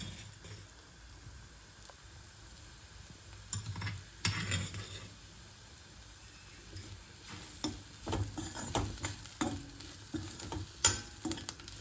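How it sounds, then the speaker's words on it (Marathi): Fresh green soybeans fry in a pan with oil and spices while a spoon stirs them, giving a steady close sizzle broken by irregular scraping and clattering strokes that grow busier toward the end. "आता हे चेतलेले सोयाबीन आहे ना ते टाकून घे"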